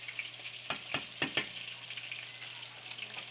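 Rice with butter, coconut milk and bouillon being stirred in a pot, four sharp spoon scrapes and knocks in quick succession over a continuous light sizzle, then just the quiet bubbling hiss.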